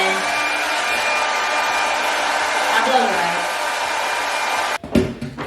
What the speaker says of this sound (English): I actually just take the blow dryer and I take the attachment off